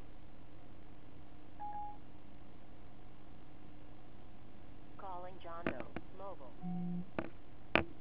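Tones from a Bluetooth rotary phone placing a call through Siri: a short beep early, then a burst of warbling chirps and sharp clicks near the end over a steady background hum.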